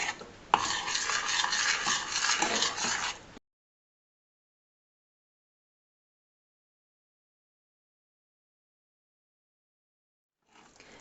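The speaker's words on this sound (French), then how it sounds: "à feu doux, vous mettez votre mélange en remuant constamment" Homemade natural modelling dough mixture stirred in a pan over low heat, a close scraping and rubbing of the spoon for about three seconds, then silence before a brief return of scraping.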